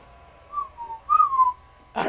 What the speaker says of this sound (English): I don't know why I whistled.